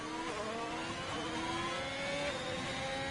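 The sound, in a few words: Ferrari race car engine in a racing video game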